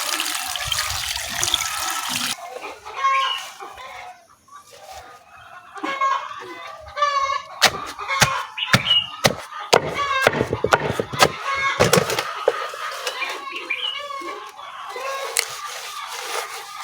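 Poultry-farm chickens cluck and call repeatedly at close range alongside running, splashing water, with a dense flurry of clucks midway and steady water noise throughout.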